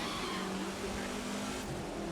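Rallycross car engine in The Crew 2 racing game, a faint continuous rumbling roar with revving surges, held low under the mix for a couple of seconds.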